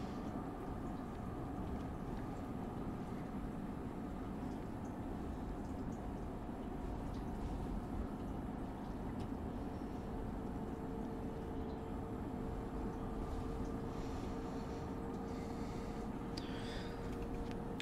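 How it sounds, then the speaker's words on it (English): An ALP-46 electric locomotive runs on the Northeast Corridor between New York and Trenton in the Train Sim World 3 video game, giving a steady, loud, continuous low rumble and hum with a sustained tonal whine throughout and no speech. "every time I move the camera back there, I think there's another train going by, because it's such like a powerful sound"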